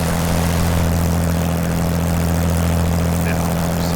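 A propeller airplane engine in Microsoft Flight Simulator drones from outside the aircraft, a loud steady low hum with strong tonal pulsing, unbroken for the whole stretch.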